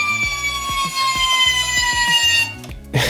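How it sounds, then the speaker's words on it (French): Rear sirens on a 1/24 scale FDNY Tower Ladder fire truck model, a loud electronic wail sweeping in pitch with a rapid pulsing pattern, cutting off near the end. "L'autre, ici, les sirènes à l'arrière."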